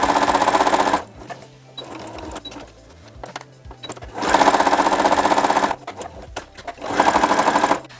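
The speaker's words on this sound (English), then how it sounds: "we are going to sew along both these lines" Up close, a sewing machine stitches lines across a fabric strip for a hair bow, producing three loud, rapid chattering runs separated by quieter pauses, with no one speaking.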